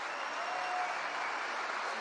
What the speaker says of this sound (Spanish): la fascinación de la señora aplaudiendo